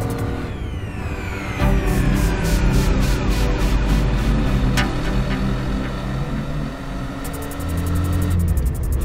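Rear-engined Renault Clio V6 hatchback driven on a track, its engine rumbling loudly and continuously with rising and falling revs and gear changes, no talk over it.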